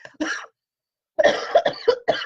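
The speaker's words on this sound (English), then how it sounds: "I have had a cough for a month" A short cough, then after a pause a rapid burst of several chesty coughs from someone with a month-long cold, close and loud.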